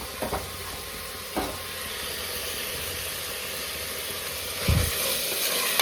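Chopped fenugreek leaves fry in a hot pan for avarekal bath, giving a steady close sizzle with a few sharp stirring knocks and scrapes.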